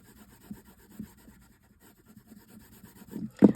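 A soft rubber eraser rubs back and forth on card in short, quiet scrubbing strokes that build to a louder burst of rubbing at the end.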